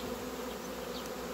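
Honey bees drone in a steady, dense buzz over an opened hive that has been left undisturbed for six months, the hum continuous and close throughout with no voices.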